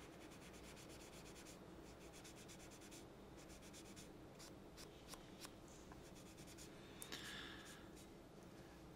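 A small piece of sanding sponge rubs against a model P-40F Warhawk propeller, giving a steady, faint scratchy abrasion with brief stroking bursts, close up and without talk.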